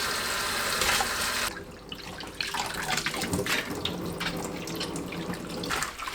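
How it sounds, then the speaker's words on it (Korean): Mallow leaves are rinsed under a running kitchen tap, a steady close gush of water with splashing and shifting as the leaves are handled beneath the stream. "흐르는 물로 여러 번 헹굽니다."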